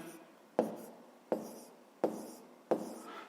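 A pen writes numbers by hand during a fifth-grade math exercise, with four distinct stroke onsets roughly 0.7 seconds apart, each fading into soft scratching; close and fairly quiet, with no talking.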